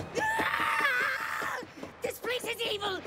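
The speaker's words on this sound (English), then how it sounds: "Maybe you shouldn't scream like that." A shrill, drawn-out scream rises and wavers for about a second, then breaks into strained, gasping cries over a low rhythmic background.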